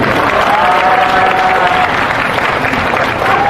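An audience at an election-lawsuit candlelight rally in Busan applauds steadily during a brief donation ceremony, a dense, loud, sustained clatter of clapping.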